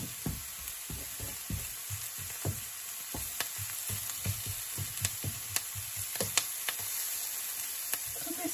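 Garlic sautéing in butter in a pot, a steady close sizzle and frying crackle with scattered sharp pops and spits, no voices over it.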